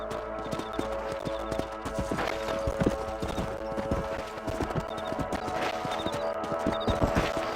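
Horse hooves clip-clop at a steady trotting rhythm while riding across a ranch property in the Red Dead Redemption video game, close and clear over a faint background.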